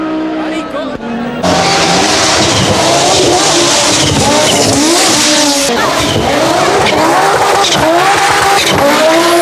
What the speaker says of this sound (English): This is the Audi Quattro Rally Evolutions.